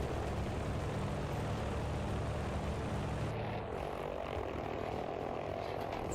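A propeller plane in the Battlefield video game holds a continuous, droning engine roar that stays steady and fairly loud throughout, with no talking.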